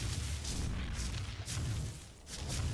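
Sniper gunfire in the video game ARK Survival Evolved during PvP, heavy booming shots repeating every half second or so over a rumbling low background.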